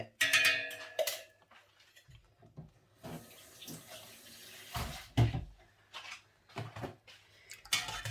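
Yarn dye mixture dumped into a pot of water during hand dyeing of yarn, giving splashing, sloshing and pouring sounds with scattered knocks against the container, close and moderately quiet with no talk.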